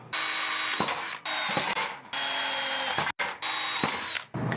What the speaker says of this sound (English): I'm going to drill this out and install some riv nuts